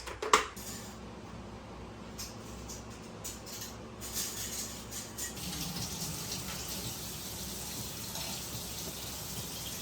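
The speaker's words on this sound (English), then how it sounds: "So now I need to wash some lids." New canning jar lids being washed at a sink: a clink of metal lids at the start, then steady running tap water and soft rinsing that continues to the end.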